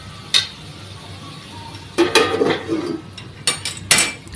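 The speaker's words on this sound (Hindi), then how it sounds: "अच्छे से मिक्स करके और ढक देना" A spoon scrapes and clinks through sabudana khichdi with potatoes in a pan, in a few separate loud stirring strokes against the metal with quiet gaps between them.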